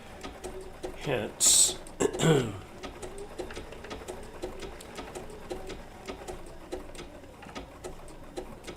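A Bernina B790 PRO sewing machine stitches wool applique with a rapid, even needle patter running throughout, close by, while a voice speaks over the opening seconds.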